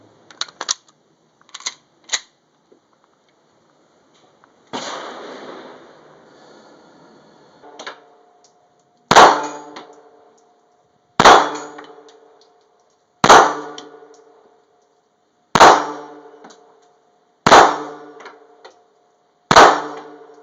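Taurus 24/7 G2 Compact 9mm pistol firing at a shooting range: after a few light clicks and handling sounds, six loud, crisp shots ring out alone at a steady pace roughly two seconds apart, each with a short metallic ring.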